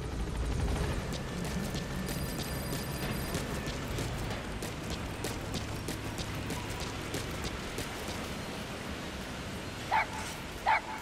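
A puppy, D-Dog from the video game Metal Gear Solid V: The Phantom Pain, gives faint yips and small barks over a steady game ambience, with two short sharper yelps near the end.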